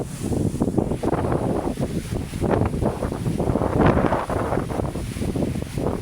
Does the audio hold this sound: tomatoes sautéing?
no